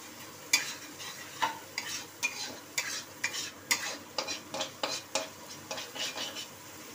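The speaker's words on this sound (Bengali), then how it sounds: "মোটামুটি আদা রসুন সব কটা ভাজাই হয়ে গেছে।" Ginger and garlic frying in a wok while a utensil stirs them: a soft sizzle under a run of sharp, fairly regular metallic scrapes and clinks, close and without speech.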